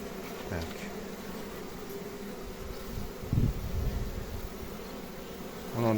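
Honey bees at a hive in spring keep up a steady, close, droning buzz, with a couple of brief thumps and handling noises breaking in near the middle and the end.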